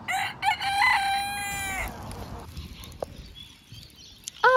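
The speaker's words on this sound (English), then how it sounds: "Oh, our chicken. Rooster." A rooster crows in the open outdoors during a road trip through Australia's Northern Territory: one loud, drawn-out cock-a-doodle-doo at the start, then quiet background sounds and a few faint clucks and small noises.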